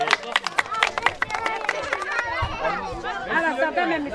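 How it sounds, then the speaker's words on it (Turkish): Guests at a Kilis henna night celebration clap in quick bursts, the claps mixed with crowd chatter and voices talking throughout. "Şöyle güzel alkış yapalım."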